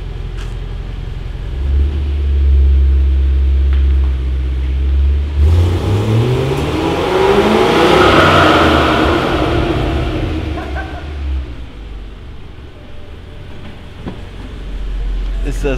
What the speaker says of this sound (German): Dieses Atmen vom Kompressor, ne? Also das ist ein Auto, das atmet wirklich.